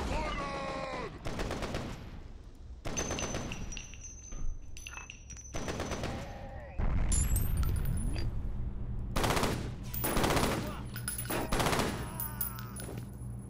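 Machine gun bursts fire in a video game shootout, several loud rapid volleys separated by short pauses, each burst a dense rattle of shots with some background game sounds between them.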